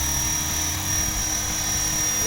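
Loud, steady whirring drone of a spinning size-450 Airwolf RC helicopter rotor, close by, continuous for the whole moment with faint voices underneath.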